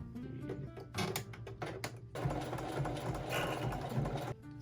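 Sewing machine zigzag stitching along the waist of vintage Levi's 501 jeans, a steady close whir with a brief pause in the first half before a longer continuous run.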